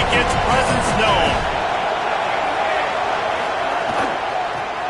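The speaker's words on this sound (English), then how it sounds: "This crowd ready to make its presence known." A football stadium crowd roars in a dense, sustained wash of noise throughout, loud and continuous without clear breaks.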